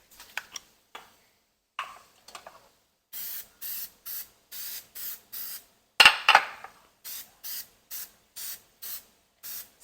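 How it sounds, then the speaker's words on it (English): Pam cooking spray greasing muffin tins, a regular series of short hissing bursts, about a dozen in a steady rhythm, preceded by light clicks and handling of the can. "we're gonna spray with a little Pam spray"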